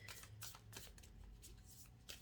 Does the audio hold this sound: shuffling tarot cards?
yes